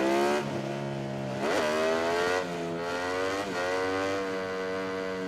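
A motorcycle engine revs in the MotoGP 19 racing game, riding a Ducati at COTA, with rising and falling whines as the rider shifts through gears in several repeated surges, loud and alone without talk.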